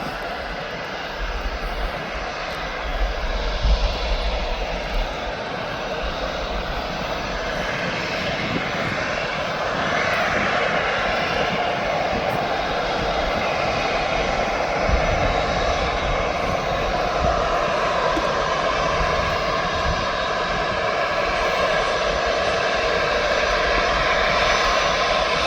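A Ryanair airliner at Birmingham Airport gives a continuous, fairly distant engine roar that swells and holds steady, with no talk over it.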